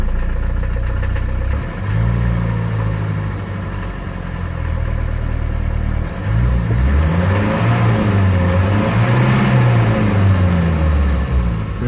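A 1977 Mercedes 240D diesel engine idles after a cold start, loud and close, with a steady clatter and a couple of rising and falling revs.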